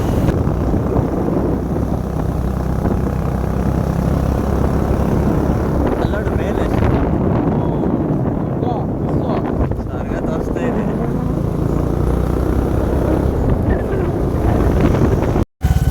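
Motorcycle riding along a scenic road near Chikkamagaluru, with steady, loud wind roar buffeting the microphone and low engine drone throughout, ending in a brief dropout.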